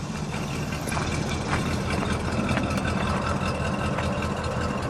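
A 1966 Chrysler Newport's V8 engine idles steadily with a deep, lumpy rumble and a slight rhythmic lope through a single big exhaust, continuous and close throughout.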